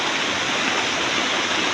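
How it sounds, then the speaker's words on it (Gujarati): Heavy monsoon rain pours steadily in Savarkundla, a dense, loud, unbroken roar of falling water with no gaps, close and enveloping. "હા, ગજબનો વરસાદ છે ભાઈ સાવરકુંડલા."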